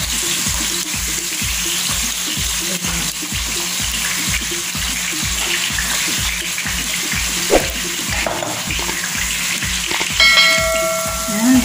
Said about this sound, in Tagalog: i-fry naman natin yung potato